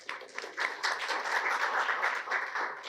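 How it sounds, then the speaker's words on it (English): A room audience gives a round of applause after a thank-you at a talk, a soft, fairly distant patter of many hands clapping that stays steady for a few seconds. "Can we give you a round of applause?"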